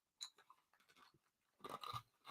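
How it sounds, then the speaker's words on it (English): Someone crunching ice cubes from a drink, a few sharp, close crackly bites and chewing, quiet and intimate, with a louder burst of crunching near the end. "As I crunch ice, which is probably not the best on a live stream."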